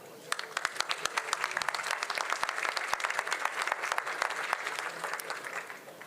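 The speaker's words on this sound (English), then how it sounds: "I think he deserves an applaud." Applause from an audience at an international conference on combating antisemitism, dense steady clapping with sharp individual claps standing out, sustained for several seconds with no voices over it.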